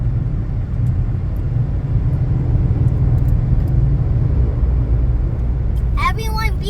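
Busy Cebu city traffic, a continuous low rumble of engines rolling past close by, dense and steady, with a short burst of a higher tonal sound near the end.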